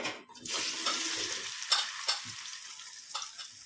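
Dried amla (Indian gooseberries) tumble into hot oil for pickle and set off a loud, steady sizzle and crackle, with a few sharper spits and stirring scrapes along the way.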